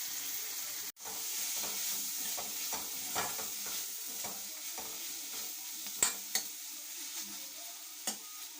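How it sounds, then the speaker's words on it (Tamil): Vallarai leaves being sautéed in a pan, with a soft steady sizzle under repeated stirring scrapes and a few sharper knocks of the spoon against the pan. Fairly quiet, with no talking. "நல்லா வதக்கிட்டு தேங்காய் துருவில் உள்ளே போட்டுடலாம்."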